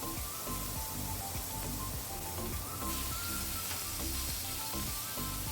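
Chicken pieces hit a very hot oiled grill pan and sizzle loudly and steadily, a dense crackling hiss that holds throughout with no talk.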